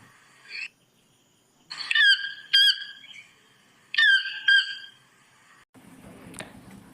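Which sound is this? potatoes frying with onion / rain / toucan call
toucan call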